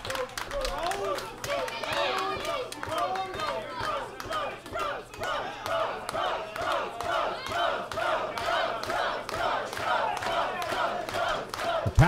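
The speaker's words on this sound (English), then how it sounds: "Capacity crowd loving this." Capacity crowd at a professional wrestling show in the Carlton Performing Arts Hub roars and cheers steadily, with rhythmic chanting swells and scattered claps filling the hall continuously.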